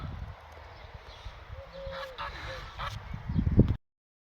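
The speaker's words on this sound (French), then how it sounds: "des oies sauvages. Il y a des canards." Wild geese and ducks honk and quack in the open outdoors, a few short calls rising over a soft background hiss, followed by a louder close burst before the sound cuts off.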